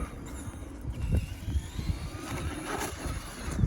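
A radio-controlled short course truck runs on a home-built outdoor dirt track, its motor whirring steadily with rough bumps and surges in level throughout, no voices over it.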